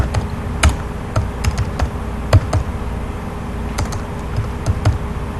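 Computer keyboard typed on while entering Linux command-line edits, giving sparse, irregular key taps over a steady low background hum, fairly close and with no voices.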